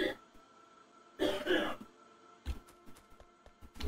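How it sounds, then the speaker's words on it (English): A burst of harsh coughing and throat clearing comes through the wall from a neighbouring apartment, followed by scattered thumps and small noises in an otherwise quiet room. "There's someone coughing in the neighbouring apartment, and I can hear it a lot."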